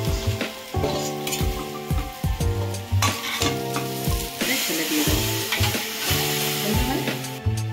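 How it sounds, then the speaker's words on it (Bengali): Taro and potato pieces frying in a pan of hot oil, a close, steady, loud sizzle broken by repeated stirring and scraping sounds throughout. "গাঁটি কচু আলুটাকে আমি ভালো করে ভেজে নিয়েছি।"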